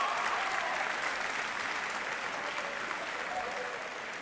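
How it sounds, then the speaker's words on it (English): An audience at a college sports awards show applauds the women's tennis team, the top conference seed, with dense, steady clapping that holds at full volume for the whole stretch and tapers only slightly at the end. "A round of applause for the women's tennis seed"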